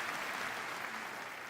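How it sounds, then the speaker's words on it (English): A room full of people at a game industry showcase claps in steady, dense applause, loud and continuous throughout the short burst. "I'd like everyone to give a round of applause to Corey and Matt"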